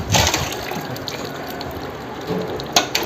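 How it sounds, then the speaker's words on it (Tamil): Distilled water drains from a Yamaha R15 V3 motorcycle's radiator hose, pouring and splashing steadily in a continuous gurgling stream, fairly loud and close, with a few sharper splashes near the end. "கீழே இருக்கிற ஓஸை கழட்டி அதில் இருக்கிற கொஞ்சம் அந்த டிஸ்டில் வாட்டரையும் ட்ரெயின் பண்ணுறோம்"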